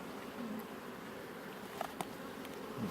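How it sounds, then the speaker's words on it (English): Bees hum in a steady, faint drone at a ranch, with a few soft taps and rustles, close by and without talk. "if you touch the bees, they'll slowly get out of the way"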